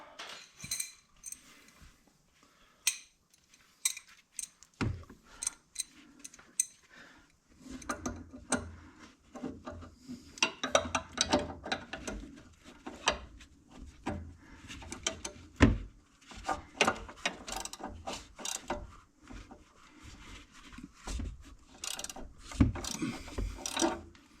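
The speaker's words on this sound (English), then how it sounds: "Maybe I ought to use a crescent wrench on it now." Crescent wrench turning a bolt on the front sway bar end link of a 2015 Jeep Renegade, giving irregular metallic clicks, ratcheting ticks and clinks close by, alone without talk.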